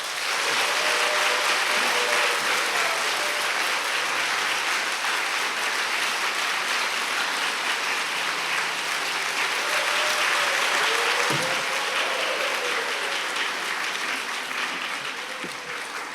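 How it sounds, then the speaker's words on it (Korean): A church congregation at Mokpo Sarang Church claps warmly to welcome a woman guest during a special autumn dawn prayer service. The applause is full and continuous for a long stretch, thinning only slightly toward the end. "박수로 맞으세요"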